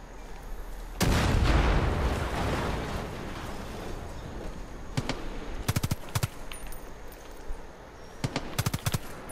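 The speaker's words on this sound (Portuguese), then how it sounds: "Deixa eu estourar esse silo aqui." Silo blown up with a remote explosive in the video game Far Cry 5: a loud booming blast that rolls away into rumble, followed by several sharp bursts of gunfire.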